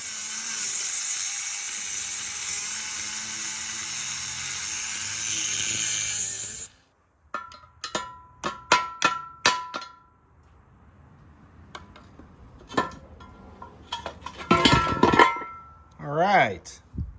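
Lug nuts are fastened to put the front tire back on a Farmall Cub tractor, heard as a string of short metallic ratcheting zips and clicks with brief pauses between them, following a stretch of steady background noise.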